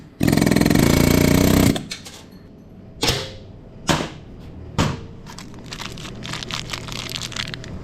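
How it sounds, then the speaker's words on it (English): Three sharp metallic hammer strikes land on the back side of a chain link on a 2003 Honda Shadow 750 motorcycle, spaced about a second apart, after a burst of loud grinding and followed by faint rattling. "hammer on the back side of the link, which will pop that whole assembly apart"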